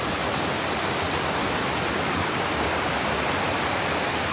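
A trailside waterfall pours into a big pool, a steady, loud, broadband rush of falling water that stays constant throughout with no voices.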